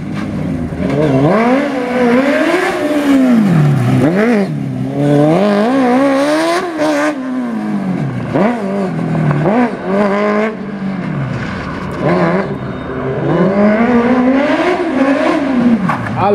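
A Suzuki GSX-R1000 sportbike with a 1000 cc engine and sequential gearbox revs hard nearby, its pitch sweeping up and down in repeated loud rising and falling surges that fill the whole stretch.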